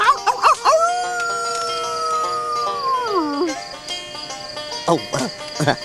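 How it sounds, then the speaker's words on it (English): Coyotes howl on the prairie in a TV western: long, steady howls that hold, then slide downward, mixed with short yips and barks on either side. The sound is close and clear, and a faint tonal hum sits underneath. "sitting around a bonfire with the cowboys, listening to the coyotes"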